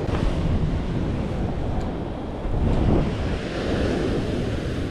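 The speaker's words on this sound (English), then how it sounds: "Oh, look at this wave" Ocean surf crashes on the shore during a shore jigging outing, a loud wash of rushing water with heavy wind buffeting the microphone, swelling near the end of the clip.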